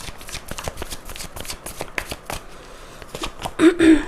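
A deck of tarot cards being shuffled continuously at close range, with a steady flurry of riffling, slapping card sounds that grow louder near the end.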